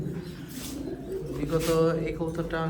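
Pigeons in a home loft, one sitting on eggs, give low, throaty coos that repeat close by over a steady murmuring hum.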